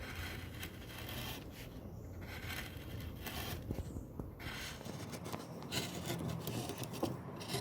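Hand carving a leaf shape into a wooden workpiece, cutting out the deeper parts: a steady, close, soft rasping and scraping texture running throughout with small rhythmic variations, no talking.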